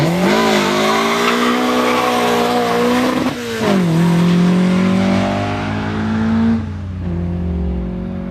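A family road car is driven hard at the Castle Combe sprint, its engine note rising and falling loudly through gear changes, with tire squeal as it passes close by and fades.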